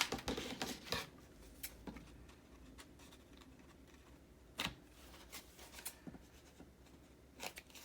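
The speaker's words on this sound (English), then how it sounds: "Scissors." Scissors snip several times in short, quiet bursts, with soft rustling of paper between the cuts.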